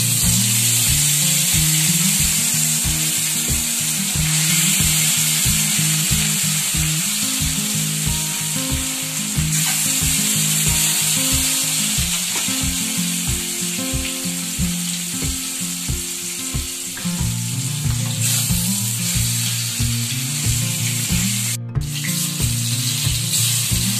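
Fish coated with salt and turmeric fries in hot oil, producing a loud, unbroken sizzle and crackle that runs steadily for the whole stretch, close and with no voices.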